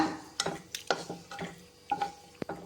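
Cashews frying in ghee for carrot kheer are stirred in a small pan, a quick run of scrapes and clicks from the spoon over a soft sizzle, close and fairly quiet, no speech.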